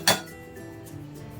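Chopped pieces dropping into a mixer jar give one sharp, close clink at the start, followed by faint rattling and near silence.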